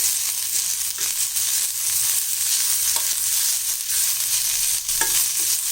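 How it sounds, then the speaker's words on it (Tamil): Onions and a handful of mint leaves sauté in a pan for pudina chutney, giving a steady close sizzle with occasional stirring scrapes and light clinks throughout. "இதில் நம்ம வந்து ஒரு கைப்பிடி புதினாவை போட்டுடலாம் இதை நல்லா அலசி வச்சுருக்கேன் இதையும் நல்லா இதில் வதக்கிடலாம்"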